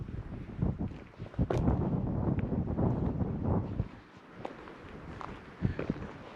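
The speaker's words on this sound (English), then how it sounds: "It is windy up here" Gusty wind buffeting the microphone in loud rumbling bursts on a high meadow near Pine Valley, easing off partway through, with a few faint knocks and rustles.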